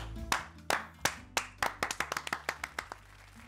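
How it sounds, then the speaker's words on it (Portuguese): A small group clapping for the cook in a studio cooking class, about a dozen sharp, close hand claps in quick irregular succession, with no talking. "Palmas pro chefe."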